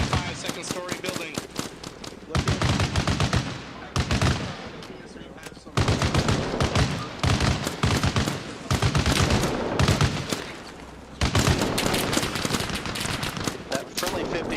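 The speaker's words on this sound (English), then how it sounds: "That friendly 50 is firing right over us." A friendly .50 caliber machine gun fires overhead in Arma Reforger, loud rapid bursts in several long stretches broken by short pauses, with voices talking in between.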